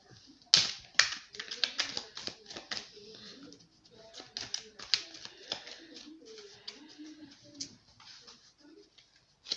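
Tarot cards are shuffled, flicked and laid down in quick, crisp, close clicks and slaps, scattered irregularly over several seconds while someone speaks quietly in French beneath them.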